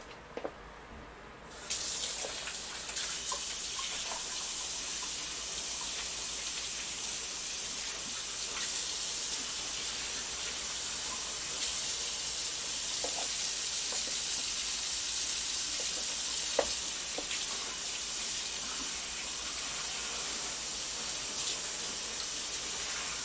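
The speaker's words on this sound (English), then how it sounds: "I always rinse out the meat wrappers and meat containers." Tap water runs steadily into a sink while meat wrappers and containers are rinsed out, a constant close hiss and splash lasting throughout with a few faint knocks.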